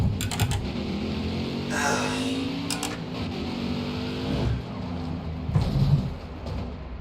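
NASCAR truck engine racing in the Nascar Heat 5 video game, a continuous droning engine with rising pitch sweeps and a few sharp clicks, mixed with faint background sounds.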